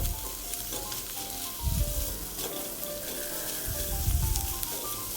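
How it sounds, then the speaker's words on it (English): Noodles with corned beef sizzle and fry in a pan as they are stirred, a steady close crackle with louder scraping swells from the stirring, and no talking. "Keep stirring like you are doing vegetable stir frying."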